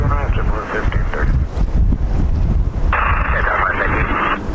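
Strong, gusty wind roars and buffets continuously during an aircraft landing on runway 31R, with winds from 350° at 16 knots gusting to 20, while a voice talks over a radio.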